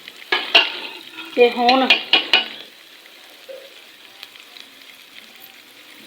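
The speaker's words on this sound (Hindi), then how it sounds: "प्याज, हरी मिर्च वगैरह, लहसुन, थूम सारा कुछ घी के अंदर तड़क गया" Onion, green chili and garlic hitting hot ghee for a dal tadka give a loud, crackling sizzle with a few sharp spoon clinks and stirring bursts early on, then settle into a faint, steady frying hiss.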